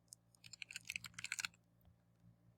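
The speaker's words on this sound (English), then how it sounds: "Hopefully it allows us to type things." Computer keyboard typing during web wireframe work, a quick burst of close, crisp key clicks over about a second, then quiet.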